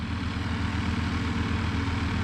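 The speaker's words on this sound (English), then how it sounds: "It's idling fine now." An engine idling on a farm during a sod removal job, a steady low drone with a constant rumble and no change in pace, heard close and alone.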